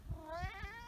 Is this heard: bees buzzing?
no